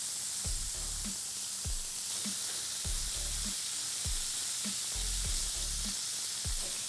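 Koftas fry in hot oil in a pan over medium heat, giving a steady, soft sizzle with broadband hiss throughout and faint periodic low thumps underneath, no voices.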